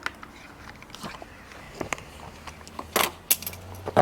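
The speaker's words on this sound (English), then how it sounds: "Oh, drop my pen." A pen drops and clatters, a sharp bright click and rattle among scattered handling noises and small taps, close by and fairly quiet.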